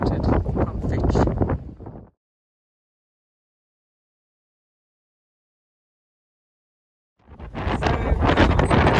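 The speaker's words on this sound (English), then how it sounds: "the wind is still blowing" Wind blowing at sea beside a boat off the Italian coast, heavy blustery rumble buffeting the microphone for about two seconds, then near silence, before the gusting roar returns loudly.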